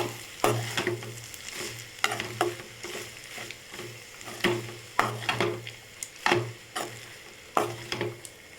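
A spoon scrapes and stirs carrot rice in a pan, with repeated scraping strokes at a roughly regular rhythm over a low sizzle, close and clear, with no talk.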